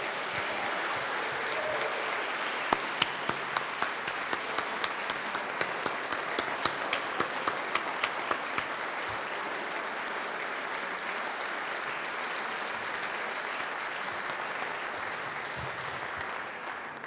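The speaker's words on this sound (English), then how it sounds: "Let's have a round of applause, Coach Terry Holland." An audience at a celebration honoring the 1976 ACC champion basketball team and coach breaks into sustained applause, dense steady clapping from a large crowd with a few sharp claps standing out early on.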